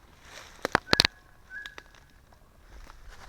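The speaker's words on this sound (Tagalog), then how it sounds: "Ganda tunog ng ibon ah." A few sharp bird chirps and whistles burst out close by on a forest trail on Mt. Guanyinshan, Taiwan, then fade into a quiet outdoor background.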